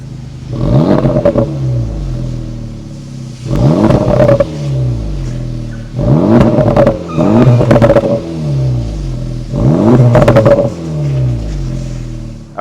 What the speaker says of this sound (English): let's fire up this 2-liter turbocharged 4-cylinder engine and hear how she sounds